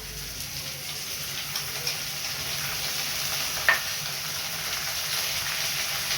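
Onion and tomato frying in oil for a katla fish curry give a steady, close sizzle with occasional soft stirring scrapes and one brief sharp tap.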